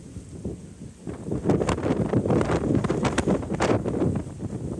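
Steady wind buffets the microphone outdoors, a broad low rumble that swells and gusts throughout with faint rustling on top.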